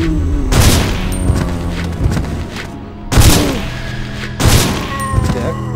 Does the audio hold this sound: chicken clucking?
no